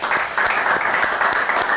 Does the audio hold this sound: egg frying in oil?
no